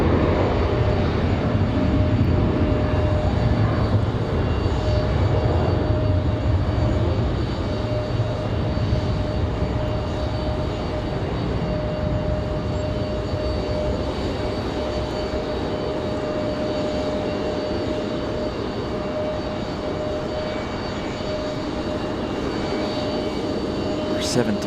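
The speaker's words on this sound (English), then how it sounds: "Got that Delta on the move, that 737-900." A Delta Boeing 737-900 jet moves at an airport, its engines giving a steady, loud roar that holds throughout with a faint high whine, and a voice is heard now and then under the noise.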